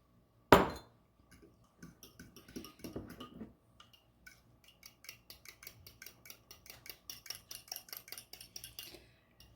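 A whisk or fork clinks rhythmically against a glass bowl while beaten eggs are mixed with heavy cream for a spinach and bacon quiche, opening with a sharp knock and then quickening into fast, light, steady taps.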